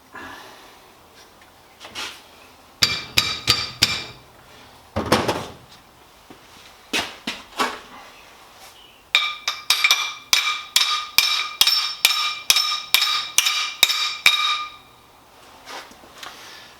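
Sharp metallic strikes ring out in irregular bursts, then a steady run of about a dozen evenly spaced hammer blows driving a part onto a Tremec 3650 transmission during assembly, close and fairly loud.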